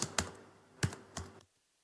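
Keystrokes on a computer keyboard while HTML code is being typed, four distinct clicky taps at uneven intervals, close and fairly quiet, with no talking, then a brief silence.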